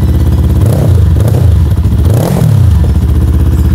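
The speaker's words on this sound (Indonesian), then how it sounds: "Suara 2 silinder dari 400 cc. Kayak gini nih kalau gua gas." Two-cylinder 400 cc SM400 scrambler motorcycle engine revved in repeated blips, each throttle twist swelling into a loud, close, gritty roar before dropping back to a steady idle; no talking.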